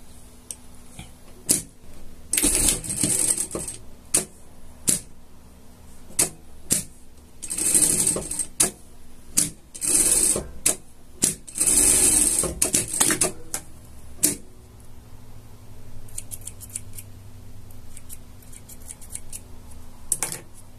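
A sewing machine stitches fabric for a dog costume, heard as repeated short bursts of rapid clicking stitches separated by brief pauses and handling ticks, with a low motor hum fading into a quieter stretch at the end.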